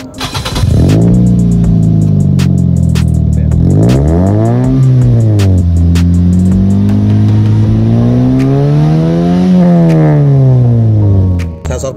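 A 2015 Toyota Vios with an HKS exhaust revs loudly and close up, its engine note climbing and falling in several long sweeps after starting, held steady in between, then cut off at the end.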